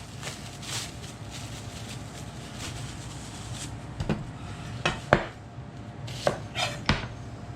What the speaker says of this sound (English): So I'm gonna chop this onion up